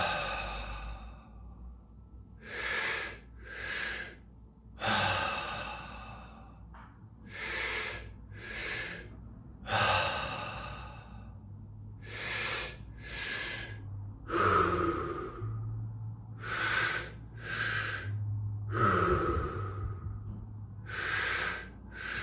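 Slow, deep breaths alternate steadily, each long airy inhale followed by a hissing exhale, repeated in a calm rhythm with quiet pauses between.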